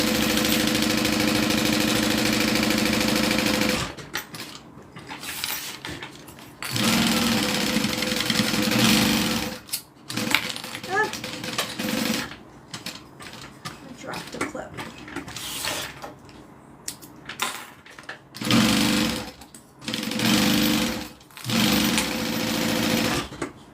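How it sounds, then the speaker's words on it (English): A sewing machine runs stay stitching around the edge of a leather zip-around wallet in several loud bursts, pausing between runs with quieter handling and clicks. "So now I'm just doing a stay stitch all the way around."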